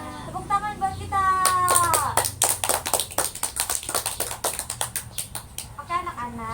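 Hand clapping follows a short sung phrase, a rapid rhythmic run of many crisp claps, close and steady, with singing voices before and after it.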